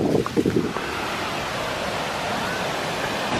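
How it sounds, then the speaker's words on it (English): Strong wind roaring across the microphone in a steady broadband rush, with a few brief sounds early on before the gusting noise takes over. "it's really starting to get windy again"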